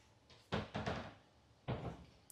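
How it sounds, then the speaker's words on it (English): Soft-close kitchen cabinet doors in a luxury home opened and shut, three muffled thumps and knocks with short gaps between, close but fairly quiet in a still room. "Open up these cabinets. You do have outlets in them for convenience. Of course, everything is soft close."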